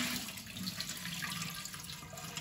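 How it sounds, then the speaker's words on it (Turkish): Rice is washed under running tap water in a kitchen sink, a continuous close splashing stream with slight swirling variation throughout. "şimdi şu pirincimizi yıkayıp pilavımızı yapalım"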